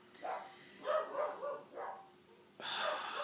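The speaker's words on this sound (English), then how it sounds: "Those dogs need to shut up." Dogs barking at moderate distance, a few short separate barks spread over a few seconds with breathy snorts between them, fairly faint and with no talking.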